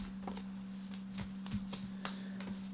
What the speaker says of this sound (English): I actually want to shuffle.